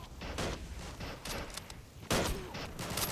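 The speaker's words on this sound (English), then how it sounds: "Nice shot by Kobe the Führer." Gunfire in a World War-era multiplayer shooter mod, Hungary versus France: a run of sharp broadband shots and bursts, loud and close, with a heavier blast partway through and continued firing after it.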